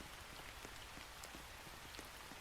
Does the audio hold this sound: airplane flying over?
no